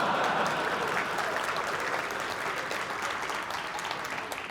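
A large conference audience at the ElixirConf 2018 opening keynote claps steadily and loudly, a dense, even wash of applause that fades slightly but never stops.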